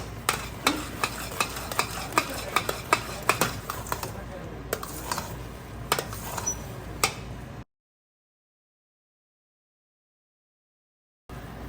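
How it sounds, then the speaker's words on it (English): Bottle gourd halwa with milk powder and food color is stirred in a pressure cooker, giving a steady run of scraping, clicking spoon strokes with some sizzle for several seconds before the sound cuts out to silence. "Mix it really well."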